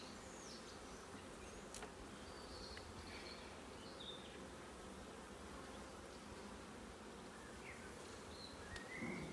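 Honey bees swarm over an opened hive holding open queen cells, a faint, steady, continuous buzz with occasional higher whines of single bees passing, no voices.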